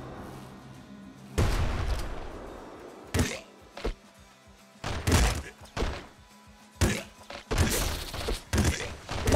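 Melee wrench hits in the game Nuclear Throne land as a series of heavy thuds and crunchy impact bursts in irregular clusters, loud and punchy over quieter background game noise.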